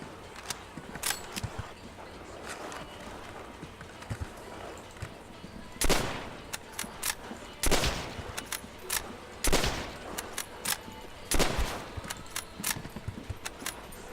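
Gunfire in the Call of Duty: World at War zombies game on the Overflow map, with repeated loud bursts of automatic fire and single shots spread across the clip over a busy background of game noise.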